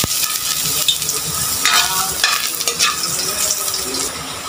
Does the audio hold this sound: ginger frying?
yes